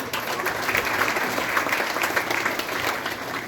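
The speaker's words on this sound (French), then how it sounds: "quand même des acclamations pour eux" A crowd at a municipal general-competition award ceremony gives contestants loud, sustained applause, with clapping filling the space and fading slightly at the end.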